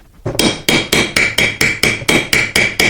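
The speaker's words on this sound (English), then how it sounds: "as I'm tapping the hammer, I'm trying to rotate the screw with the screwdriver" A hammer taps a rusted, stuck screw on a jaw while a screwdriver tries to turn it, giving ten sharp, ringing metallic strikes at a steady, brisk rhythm, close and loud.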